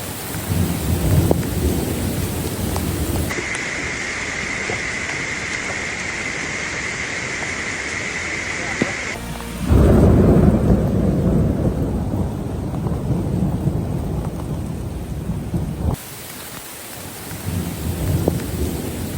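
A heavy thunderstorm in the wilderness, with dense, steady rain roaring throughout and loud rumbles of thunder swelling midway, close and enveloping, with no voices.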